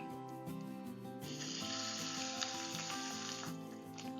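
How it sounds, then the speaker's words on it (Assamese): Turmeric-rubbed meat and large potato chunks go into a pan of browned onions and start to sizzle, a faint but steady frying that rises after the first second and carries on throughout. "এতিয়া ইয়াত মই মাংস আৰু আলুখিনি দিম"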